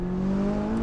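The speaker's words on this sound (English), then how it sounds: "You can definitely hear that V8 a lot better with the top down." McLaren 570S Spider's V8 drones with a steady, rising engine note heard from the cabin with the top down, a brief continuous burst with no talk over it.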